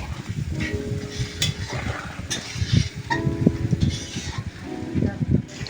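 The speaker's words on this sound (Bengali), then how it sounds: "তারপরে আর একটা উনুন ধরিয়ে এদিকে বসে গেছে বেগুন ভাজা" Eggplant (brinjal) slices frying on a clay stove, a steady sizzling crackle with occasional stirring scrapes and pot clatter, while voices murmur faintly in the background.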